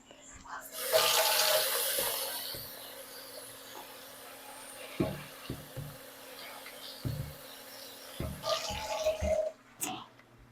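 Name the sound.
water poured over dry soy curls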